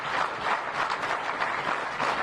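An audience gives a round of applause, a dense, steady patter of many hands clapping throughout at even loudness.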